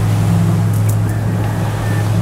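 Steady low drone of two boat engines with a strong humming tone, continuous and fairly loud throughout, both motors idling nearby.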